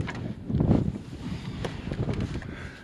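Wind gusts buffet a jon boat out bass fishing, a steady rough rumble with a stronger swell near the start and a low roar throughout, with no talking.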